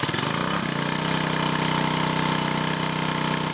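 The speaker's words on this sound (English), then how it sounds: "This is the sound of toxic algae cleanup" A toxic algae cleanup machine's engine runs at a steady, loud idle-like drone after a brief start, with a constant mechanical throb and no talking.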